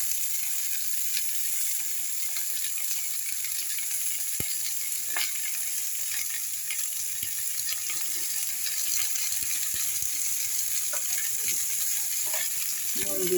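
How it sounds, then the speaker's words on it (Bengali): Bitter gourd frying with tempering spices in a pan, a steady bright sizzle with scattered clicks and scrapes of stirring, close and continuous. "এটাকে ফোড়নের সাথে একটু নেড়ে নিচ্ছি।"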